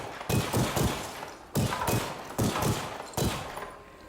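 Machine gun bursts from the VR shooter After the Fall, heard as four loud, close rapid-fire volleys separated by short pauses, with no talking over them.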